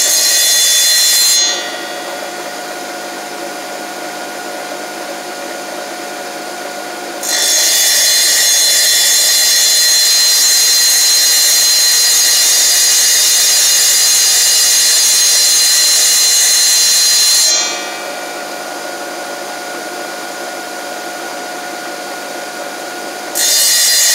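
A power saw cuts ceramic tile trim with a loud, steady high whine. The cutting runs about ten seconds between quieter stretches of the blade idling, and no one speaks.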